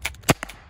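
A Byrna HD non-lethal launcher fires one sharp, loud shot over a chronograph, a single crisp crack followed by a couple of fainter clicks.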